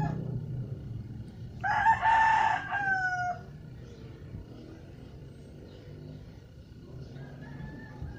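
Gamecock roosters give one loud, close crow followed by scattered softer clucks over a low background rumble.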